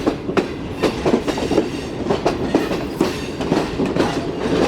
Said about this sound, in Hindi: फाइनली डाउन ट्रैक पर आ गई ये ट्रेन